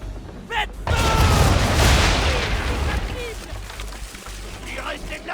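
A gunpowder store aboard a ship blows up in Assassin's Creed 3, a sudden loud boom that swells into a long roaring, crackling rumble, trailing off with some debris and faint voices.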